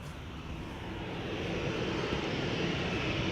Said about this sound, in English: The 737 behind it is also lining up over here in the meantime.